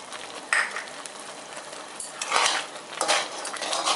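Sugar and cardamom being stirred into rava kesari in a pan, a utensil scraping and clinking against the metal in irregular strokes, with a soft sizzle underneath and no talking.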